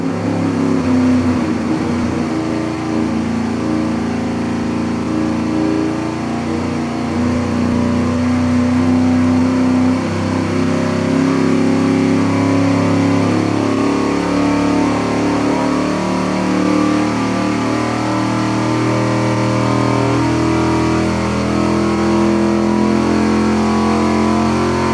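An engine runs steadily under load on a dynamometer during a rod ratio test, giving a dense, continuous roar with a shifting pitch for the whole stretch and no pauses.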